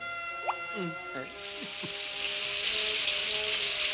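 Rain from a cartoon rain-making machine builds into a steady, dense hiss of falling water after a few squelchy drip sounds, with voices speaking over the start.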